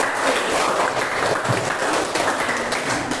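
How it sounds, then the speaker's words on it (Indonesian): A classroom gives steady applause for a presenting group, with many hands clapping together in a dense, even patter at moderate loudness for a few seconds. "kita beri aplaus dulu untuk kelompok"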